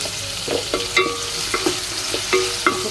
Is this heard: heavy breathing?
no